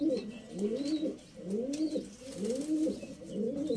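Close and soft, a crested racing pigeon coos in repeated rolling phrases, about four in steady rhythm, with faint chirps in the background.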